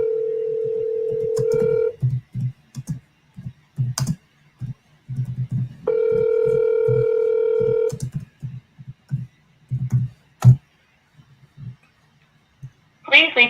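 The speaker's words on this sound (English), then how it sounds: "Gotta be triple dialing." Telephone dialing on a sales call, steady dial tones alternating with short bursts of keypad beeps and clicks, close and clear, with brief talk near the end.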